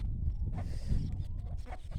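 Free-range village chickens cluck close by as they forage in the open with chicks, a short burst of soft, irregular calls over low outdoor noise.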